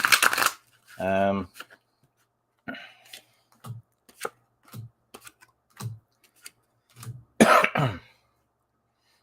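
Cards shuffled by hand for a card reading: a run of short, crisp flicks and snaps up close, with a louder riffling burst at the start and another near the end, and a brief spoken hesitation early on.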